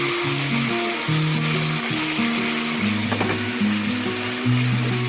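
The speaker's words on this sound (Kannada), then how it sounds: "1 ಟೀ ಟೇಬಲ್ ಸ್ಪೂನಷ್ಟು ಬೆಳ್ಳುಳ್ಳಿ ಪೇಸ್ಟ್ ಹಾಕ್ತಾಯಿದ್ದೀನಿ. ಅದನ್ನೊಂಚೂರು ಅದು ಹಸಿ ವಾಸನೆ ಹೋಗೋವರೆಗೂ ಚೆನ್ನಾಗಿ ಫ್ರೈ ಮಾಡಬೇಕು" Garlic paste frying in a pan for khushka, a steady close sizzle with light stirring and scraping running throughout, while a low tonal hum sits underneath.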